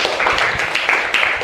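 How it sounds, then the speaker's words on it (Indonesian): Classroom applause from students after a group presentation, a dense burst of many hands clapping close by that carries on steadily for the whole stretch, with no voices heard. "Tepuk tangan."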